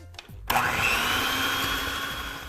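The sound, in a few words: mixer mixing softened butter and powdered sugar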